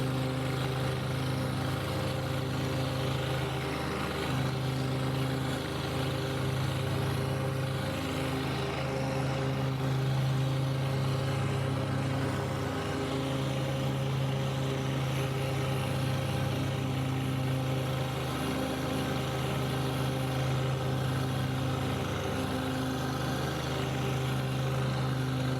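A John Deere 1038X tractor drives a 12-foot Woods batwing finish mower, giving a steady, continuous engine drone with a low hum, unbroken for the whole stretch and free of speech.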